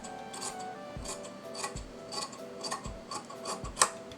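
Scissors cut through fabric for a kurta neckline, a quiet series of close, regular snips and soft rasping strokes with no talking.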